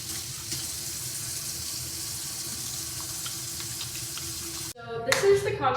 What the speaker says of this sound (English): can I have you wash your hands for me real quick?